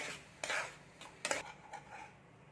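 Semolina dough being worked in a bowl: a few soft scraping and rubbing strokes of a spoon against the container, quiet and close, with no talk.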